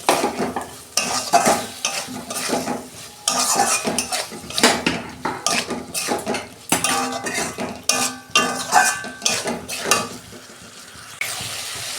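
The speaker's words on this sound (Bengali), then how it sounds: "চিংড়ি মাছ আর আলু আমি 2 মিনিট কষে নিচ্ছি" Prawns and potatoes sautéed in a spice masala clatter in a pan, with dense metallic scraping and clinking of a utensil and a steady sizzle throughout, loud and close with no talking.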